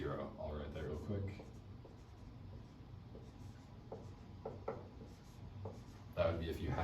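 A pen or marker writes out an equation with soft scratchy strokes and taps in short bursts, quiet and close, with a voice talking over parts of it.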